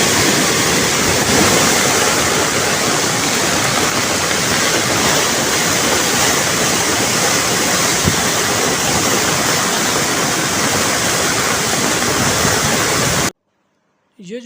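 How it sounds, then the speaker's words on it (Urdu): Dangerous floodwater rushes along the Soan River after 18 hours of continuous rain, a loud, steady, broadband roar filling the scene, cutting out abruptly near the end before a brief sound. "یہ پانی کا خطرناک بہاؤ، خوفناک بہاؤ"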